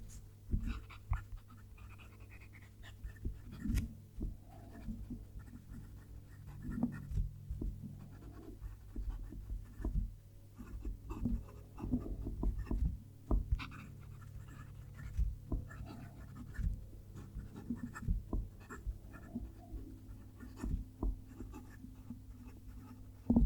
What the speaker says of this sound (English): we're getting nice audible there as we're writing with it